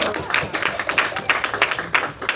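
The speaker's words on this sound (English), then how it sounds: "Round of applause for Brooke" A room full of people gives a steady round of applause for a participant at a training session, dense clapping running throughout without a break.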